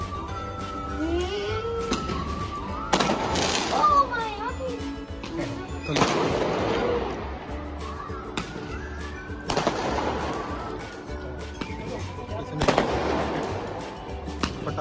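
Diwali firecrackers go off in crackling bursts every few seconds, fairly near, with voices and other background noise between the blasts.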